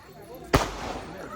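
A firecracker goes off during wedding preparations, one sharp, loud pop followed by a short fading rumble against steady background noise.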